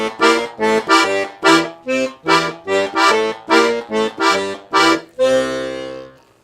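A piano accordion plays a New Orleans-style syncopated blues comping pattern on ninth chords over a bass line: a string of short punchy reedy chord stabs in a bouncing rhythm, ending on one held chord.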